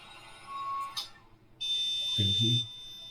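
An electronic buzzer on an embedded temperature monitoring system gives one steady, high-pitched tone for about a second, with a voice-like sound and background noise before it.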